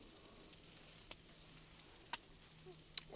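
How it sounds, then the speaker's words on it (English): Garlic hits a hot pan and sizzles faintly with a soft steady hiss, broken by a few sharp crackles and pops. "Going in with some garlic"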